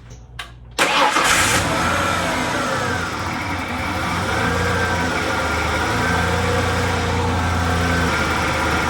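A Ford Ranger's engine cranks briefly and catches after an oil change, then settles into a steady, close mid-pitched idle that holds for several seconds with no talking.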